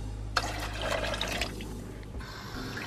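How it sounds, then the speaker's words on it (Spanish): Homemade dashi broth poured into a pot of vegan tonkotsu-style ramen soup with white pepper and ground sesame, a steady splashing stream that starts with a sharp splash, runs about two seconds, then stops, over a low kitchen hum. "Le añadimos el dashi que habíamos hecho"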